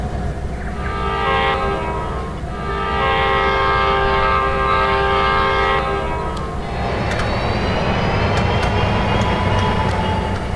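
Passenger train on a Canadian railway departing, with sustained steady horn tones over a heavy rumbling engine, then a broadband roar and rattle of rolling cars as it moves off, loud and near.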